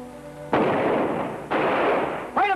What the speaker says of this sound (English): Those shots came from up above.